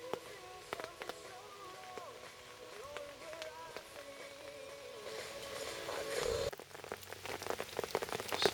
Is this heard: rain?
yes